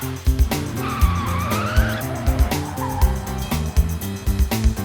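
A monster truck drives and skids, with a squealing tire tone rising and falling early on, set against loud, steady, rhythmic music throughout.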